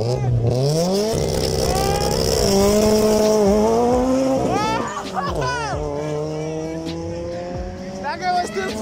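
A car spinning out at a Kenyan car event, its engine revving hard in rising and falling sweeps with screeching tires, loud and close, while people shout and cheer over it.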